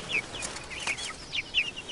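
Month-old white chicks, one a young rooster, cluck and chirp in a series of short, high, fairly close calls over a quiet background.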